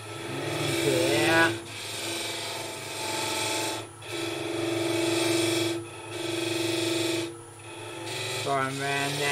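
A gouge cuts into a wood goblet spinning on a lathe, giving a steady rasping scrape in long sustained passes broken by short pauses, over the motor's constant hum.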